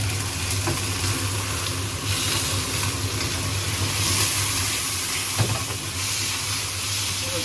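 Scallions and garlic hit hot lard in a home wok for a carrot stir-fry, giving a steady, close hiss and sizzle that runs unbroken with a few faint clinks of stirring.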